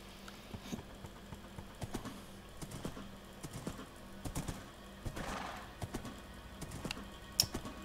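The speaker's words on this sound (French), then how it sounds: "Attention, le saut avec le cheval." Horse hooves clip-clop in Minecraft, a steady run of light, quick knocking steps spread evenly throughout, fairly soft and without any talk.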